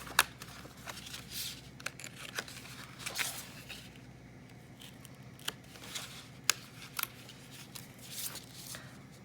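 An X-Acto knife cuts with sharp, scattered clicks and short scraping strokes at close range over a quiet hiss, with irregular spacing and a few louder snaps, and no talking.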